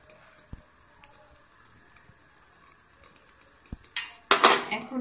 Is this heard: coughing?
no